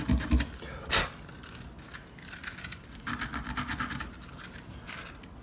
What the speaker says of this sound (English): reach inside here, scuff the top of the bolt a little bit, and the contact point